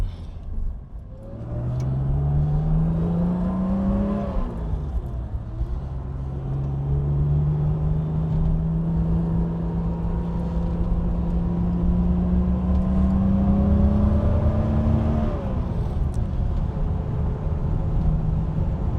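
A 1964 Aston Martin DB5 coupe drives a winding road, its engine rising and falling in pitch as it accelerates through the bends, a steady close rumble with no talking.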